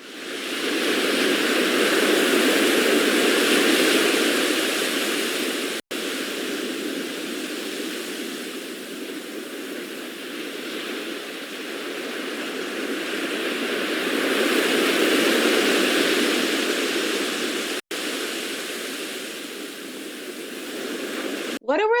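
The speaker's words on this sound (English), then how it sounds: "Let's take a couple seconds to listen to the sounds of these crashing waves" Ocean waves crash on a beach in a continuous rushing wash of surf that swells louder and recedes in slow surges, with no voices over it.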